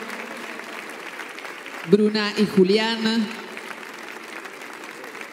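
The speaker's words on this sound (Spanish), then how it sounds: "Reciban este aplauso del público" A tango championship audience applauds in a low, steady background wash while a man announces the dancing couple over a loudspeaker.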